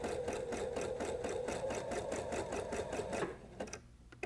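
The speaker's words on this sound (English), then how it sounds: "you might also want to use a zigzag stitch for these" Sewing machine stitching a zigzag stitch on fabric, running in a fast, even rhythmic chatter for about three seconds before stopping, with a few faint handling clicks afterward; close and clear, no talking.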